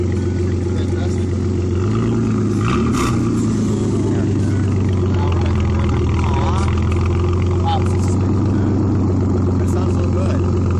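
A truck engine runs at a steady idle, a close, constant low drone with a few brief pitch shifts from revving, while people talk over it.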